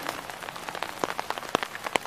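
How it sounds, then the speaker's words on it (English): Heavy tropical storm rain pattering onto a plastic shower liner used as a cover, a dense close crackle of drops with sharper individual hits standing out, no voices. "It's raining here."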